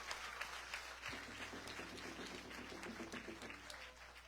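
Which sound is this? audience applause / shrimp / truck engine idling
audience applause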